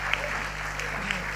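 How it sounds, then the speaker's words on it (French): A crowd at a Mayotte talent contest claps for a guitarist, a dense, even patter of applause with someone speaking over it through a loudspeaker. "Applaudissements pour le guitariste aussi"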